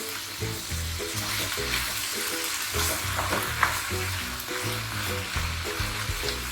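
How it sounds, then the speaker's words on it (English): Vegetables and mushrooms sizzle steadily in a pan while being stirred, with repeated scraping strokes of the spatula over the continuous frying hiss, close and moderately loud. "Now give it a stir and let it cook again for 5 minutes so that all the vegetables are wilted."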